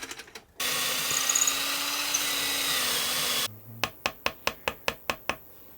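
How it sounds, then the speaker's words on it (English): Drill press boring into a custom Kyper Alpha guitar body, a steady loud whine lasting about three seconds, followed by a quick run of sharp repeated knocks or taps. "that's as deep as my drill press is going to go."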